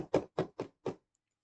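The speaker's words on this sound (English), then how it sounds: "There was a knock at the door." Four sharp knocks on a door, evenly spaced and close, followed by silence.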